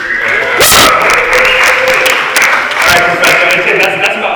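Conference audience at a blockchain governance talk cheering, whooping and making noise, a dense continuous crowd roar with scattered shouts and some clapping, loud and sustained throughout.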